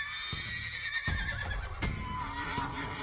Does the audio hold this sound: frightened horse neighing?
yes